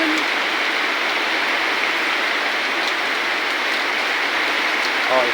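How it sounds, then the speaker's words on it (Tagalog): Heavy rain pours down in a steady, dense hiss that fills the whole stretch without a break, while people caught out on a trip talk underneath it. "Lakas ng ulan."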